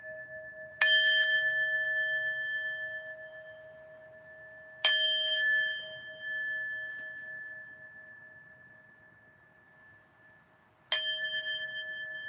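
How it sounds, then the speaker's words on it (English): A bell rings three times, each clear metallic strike ringing out and slowly decaying before the next, spaced several seconds apart in a quiet room. "we're gonna ring the bell to get things started here"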